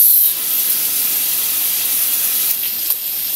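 Potatoes and carrots hit hot oil in a pan for menudo, giving a loud, steady, close sizzling hiss that holds without a break throughout.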